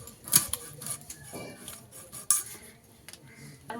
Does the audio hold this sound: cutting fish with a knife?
yes